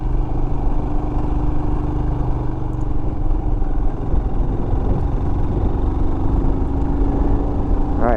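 A 2021 Royal Enfield Himalayan adventure motorcycle labours up a steep hill, its engine droning loud and steady at around 3,000 RPM with a low, even thrum and rushing wind heard from the rider's position.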